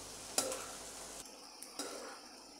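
Potatoes and capsicum fry in a pan while being stirred, a quiet steady sizzle broken by a few short clinks and scrapes of the spoon against the pan, close up, with no speech.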